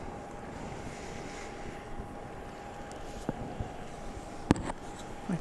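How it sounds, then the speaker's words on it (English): Passenger jet, Flight 1423 from Midland, Texas, arriving at Dallas Love Field, heard as a steady distant engine rumble with a faint whine across the scene, a few small knocks and bumps near the microphone, no talk. "We are getting ready to see the arrival of Flight 1423"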